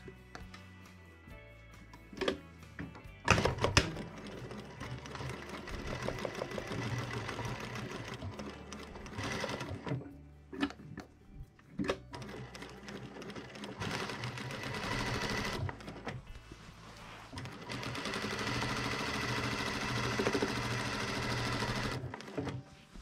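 A sewing machine stitches along a drawn line on trousers being widened, running in long steady bursts with brief pauses and stops between, close and clear with no talking.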